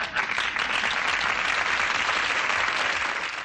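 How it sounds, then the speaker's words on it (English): Live studio audience applauding during a TV sitcom, a steady dense wash of clapping from many hands that stays loud and even throughout, with no speech over it. "That is applause in defense of a lesbian character and her recently deceased wife."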